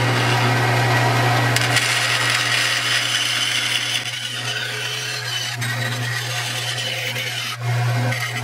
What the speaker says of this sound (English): back to the bandsaw to cut this out